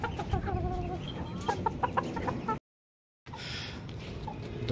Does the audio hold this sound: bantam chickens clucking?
yes